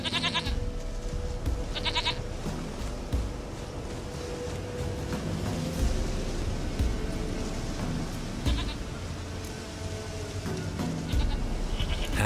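Goat bleating from The Witcher 3: Wild Hunt, several repeated bleats over a continuous low game ambience and music bed, moderately close and clear.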